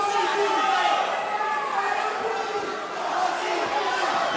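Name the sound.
fight crowd shouting a fighter's name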